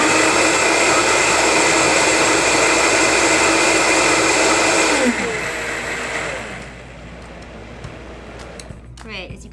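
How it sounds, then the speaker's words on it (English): A Vitamix blender whirs on low speed, mixing a brine in a loud, steady motor drone. It winds down halfway through and fades, leaving quieter room sound with a few small knocks at the end. "that just took a couple seconds to mix in the Vitamix"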